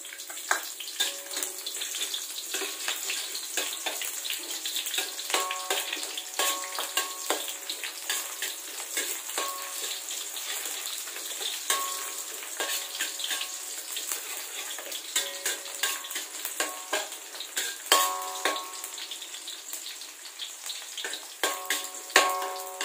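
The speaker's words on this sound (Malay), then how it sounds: "Ini tujuannya untuk membuat minyak bawang" Sliced onions sizzling and crackling in hot oil for onion oil, a close, steady frying hiss with bursts of popping and occasional stirring scrapes.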